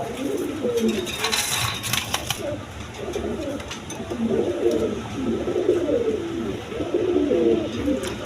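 Giribaz pigeons coo repeatedly in soft, rolling phrases close by, with a brief rustle of other noise early on and no talking.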